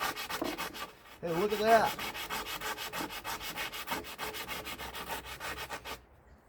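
Grinding on a part for a 1965 Ford Thunderbird rebuild, a steady, rapid abrasive rasping that runs close and loud for several seconds, briefly broken by a short spoken remark, then stops abruptly.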